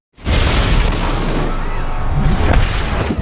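A bomb attached to a car explodes in a film scene, a loud sudden boom that bursts in and holds as a dense roaring rumble with debris crackle for several seconds.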